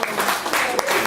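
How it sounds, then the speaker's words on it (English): A crowd applauds for a bartender at the Monarch Tavern during a fringe candidates' debate event, a brief burst of steady, dense clapping throughout. "everyone give your bartender a big round of applause"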